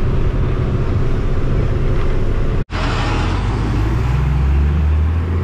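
A loud bus pulling away in Mirissa, Sri Lanka, its heavy engine roaring steadily at close range with a deep low rumble, briefly cutting out for a moment before the rumble resumes.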